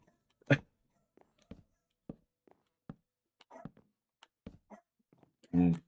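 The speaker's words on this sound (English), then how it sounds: "And now my dog's barking." A dog barks a few times in the background, short sharp yips scattered among quieter clicks and soft voice sounds, with a louder bark near the end.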